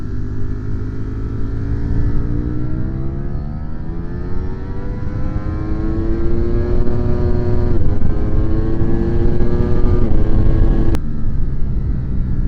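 A 2022 Ducati Streetfighter V4 with 208 horsepower runs at full throttle down a racetrack straight without short shifting, its engine note climbing in long rising sweeps through the gears, loud and continuous with brief dips at each shift.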